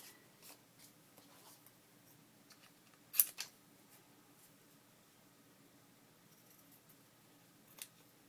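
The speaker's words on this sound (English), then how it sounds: "I'm just going to cut off the ends" Scissors trimming the ends off paper for a junk journal: two or three crisp snips, one sharp cut near the middle and another near the end, quiet and close in an otherwise hushed room.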